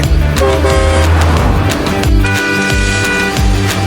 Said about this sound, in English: D for dump truck.